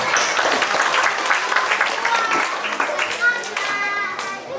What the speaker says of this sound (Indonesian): Tepuk tangan untuk anak Indonesia.